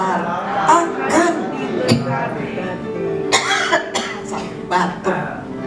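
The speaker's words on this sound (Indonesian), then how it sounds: "batuk" Coughing in a crowded gathering, several short close coughs scattered through the stretch over a murmur of people talking.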